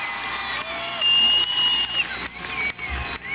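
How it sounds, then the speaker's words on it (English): A large, loud concert crowd at a show roars and claps continuously, a dense wash of cheering and applause with whistles rising over it. "Give him a round of applause."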